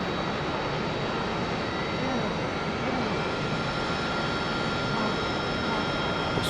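Jet engine spooling up in a DCS World combat flight simulator, a steady loud broadband roar with a sustained whine holding evenly throughout, no talk over it.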